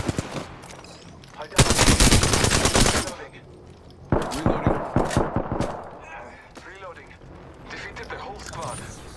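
Rapid automatic gunfire in the battle royale shooter Apex Legends comes in two loud, close bursts of fast shots with softer firing between, while voices talk over the fighting.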